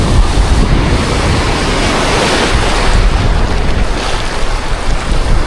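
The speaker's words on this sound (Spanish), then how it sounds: "El mar." Sea waves breaking on a beach in Valencia, a loud rolling surf roar heavily buffeted by wind noise on the microphone, continuous and close, with no talking.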